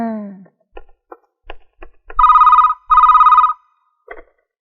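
Old telephone ringing at a hostel, two loud electronic rings close by, following a few soft clicks and thumps, with a brief voice at the start and another at the end.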